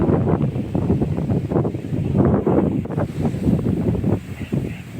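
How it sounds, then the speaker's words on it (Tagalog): Strong wind, growing stronger, buffets the microphone in a loud, continuous rumble, with water or surf faintly washing beneath it, during hand-fishing for shrimp in shallow water. "papalakas ang hangin"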